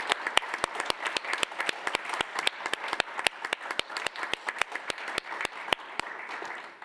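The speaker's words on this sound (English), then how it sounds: "let's join in the round of applause each other for this effort" An audience at an expert debriefing on Russia's aggression and multilateralism claps steadily and evenly for several seconds, individual sharp claps standing out in a regular rhythm, no voices over it.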